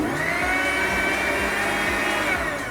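Mixer grinder blending pani puri ingredients, a steady loud motor whine that runs continuously at close range with a churning, rattling undertone, and no voices.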